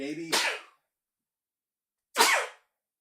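Two short, sharp sneezes about two seconds apart, close and fairly loud, with silence between them.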